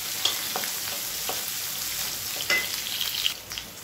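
Green chillies frying in oil for a sambar tempering, a steady close crackling sizzle with a couple of brief stirring scrapes.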